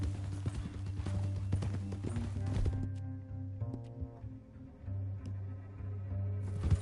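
Horse hooves clip-clop steadily in the Red Dead Redemption 2 video game, a close, rhythmic series of hoofbeats over a low hum, with the animal snorting at one point.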